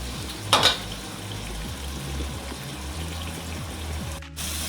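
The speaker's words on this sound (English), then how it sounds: "Just fry up a little bit, and then throw my sausages in." Vegetables and sausages fry in a pan with a steady, soft sizzle close by, one short clatter of stirring near the start and a brief dip near the end.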